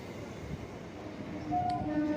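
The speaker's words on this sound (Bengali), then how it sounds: "নির্ধারিত সময়ের চেয়ে 8 মিনিট লেটে আমার ট্রেন যথারীতি প্ল্যাটফর্মে ঢুকে পড়েছে" A train pulls into a station platform with a steady low rumble, rising slightly in loudness toward the end, with a faint brief squeal of wheels.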